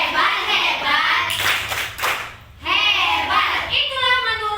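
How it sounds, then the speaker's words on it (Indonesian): Children clap together in a rhythmic patterned cheer during a church Sunday school lesson, with a pause in the middle, then more clapping mixed with young voices. "Kita beri tepuk hebat."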